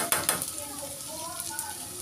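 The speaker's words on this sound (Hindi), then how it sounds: "ये देखिए इन सबको हम मिला के 2 मिनट तक भून लेंगे।" Garam masala, chicken masala and other spices sizzle and fry in a pan, a soft steady crackle with a couple of sharp clinks of a spoon near the start.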